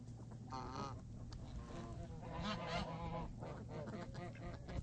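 Geese honking in a farmyard flock with chickens nearby, a busy overlapping chorus of nasal calls near and loud, continuing steadily with scattered bird chatter throughout.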